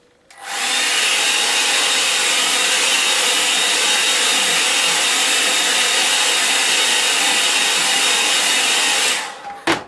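Hair dryer blowing steadily on a watercolour painting, a loud, continuous whooshing hum running nearly ten seconds alone, switched on and off with brief clicks at either end.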